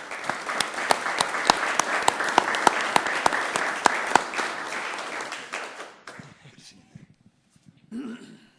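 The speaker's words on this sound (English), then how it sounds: "If we can give Amy a round of applause" A council meeting crowd breaks into a sustained round of applause, dense clapping that fills the room for about six seconds before tapering off into scattered claps and faint murmuring.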